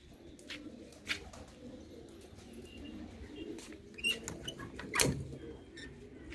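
Pigeons cooing inside their coops, faint low coos with a few sharp chirps and scuffs scattered across a quiet background.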